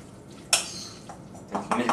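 A spoon clanks sharply against a metal pot while seasoned mac and cheese is mixed, with a few scraping stirs around two main knocks, all fairly quiet and close.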